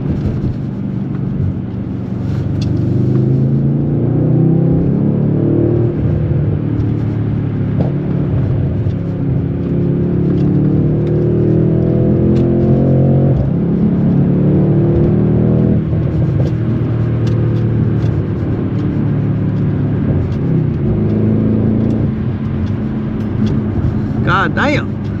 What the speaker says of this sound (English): That twin turbo V8 from Mercedes,